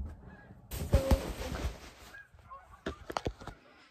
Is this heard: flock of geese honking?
yes